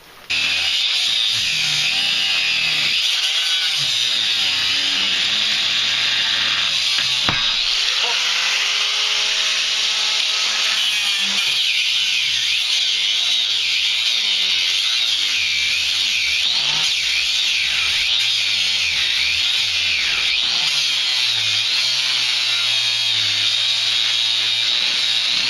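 A 4.5 inch angle grinder with a flat cutting wheel slices through school bus seat mounts, a loud, steady high-pitched whine that persists throughout, with pitch wavering as the wheel bites into the metal.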